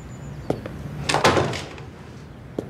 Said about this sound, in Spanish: Kadir, cierra la puerta.